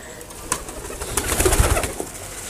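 Desi pigeons kept in a home loft coo softly and close by, a low rolling murmur that swells and fades over a couple of seconds, with light rustling in the background.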